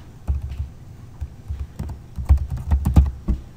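Someone types on a computer keyboard, a run of quick, uneven key taps close to the microphone with short pauses between bursts, getting busier toward the end.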